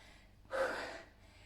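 A woman breathes hard and out of breath between exercises in a 20-minute HIIT workout, one loud gasping exhale over about half a second, alone and close.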